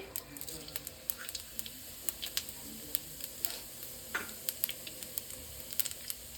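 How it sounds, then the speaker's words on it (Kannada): Mustard seeds and cumin sizzle and crackle in hot oil, with sharp irregular pops scattered over a soft frying hiss, fairly close but moderate in level. "ಎಣ್ಣೆ ಬಿಸಿಯಾಗಿದೆ, ಇದಕ್ಕೆ ಸಾಸಿವೆ, ಜೀರಿಗೆ,"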